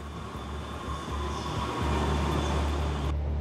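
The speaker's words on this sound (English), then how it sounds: "even today, under the visitors' feet, trains continue to run at Orsay" Suburban RER trains run beneath the former Orsay station in Paris, producing a continuous low rumble that swells midway and then cuts off near the end, steady and enclosed, with no speech.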